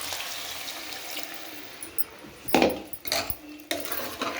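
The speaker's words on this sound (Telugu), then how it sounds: "ఇప్పుడు తగినన్ని వాటర్ వేసుకోవాలి" Water from a masala bowl gets poured into a pot on the stove while cooking a potato, capsicum and bean pulusu. Soft splashing builds into a few louder gushes and clinks of the vessel.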